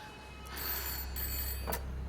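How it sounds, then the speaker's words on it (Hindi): A telephone bell rings at moderate distance, short bright bursts over a low hum in a quiet room, with no talk during the ring. "फोन बज रहा है, सुना नहीं दे रहा तेरे को?"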